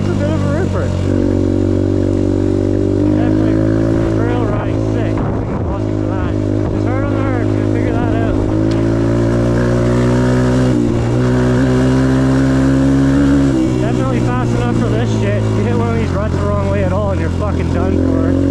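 A 2022 Suzuki DRZ125L motorcycle engine drones loud and close on a test ride, its pitch rising and falling with throttle changes, while people talk over it.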